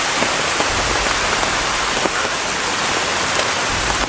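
Steady rain pours down across a surface, a dense, even hiss with scattered nearby drops ticking through it, continuous and fairly loud with no voices.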